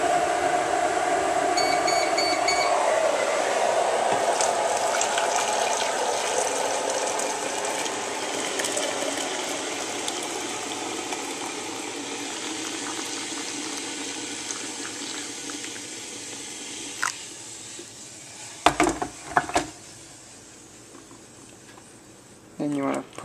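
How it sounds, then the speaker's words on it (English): Hot water is poured into a container in a long continuous splashing stream that fades over time, followed by a few sharp clinks and knocks near the end. "and you want to pour it into the container."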